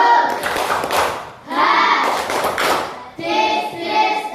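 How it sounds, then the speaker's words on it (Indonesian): A classroom of students performs a rhythmic spirit clap (tepuk semangat) with voices chanting along, in loud, patterned bursts of clapping separated by short pauses. "coba kita tepuk semangat dulu. Tepuk semangat."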